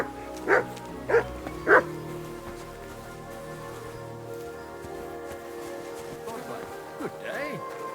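A dog in the medieval video game Kingdom Come Deliverance II barks three times in quick succession, fairly close, over a quiet outdoor ambience with faint rustling.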